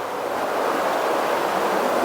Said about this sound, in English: I'm going to play some white noise